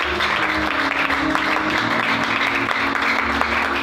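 A congregation at a Sunday church service applauds with sustained, dense clapping that fills the room, mixed with some cheering voices.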